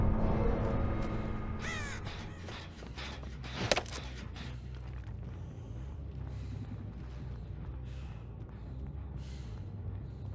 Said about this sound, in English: I just saw a crow.